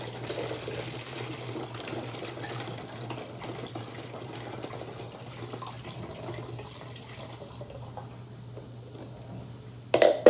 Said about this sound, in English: take one of these plastic bottles and then pour water in it. Now pour slowly.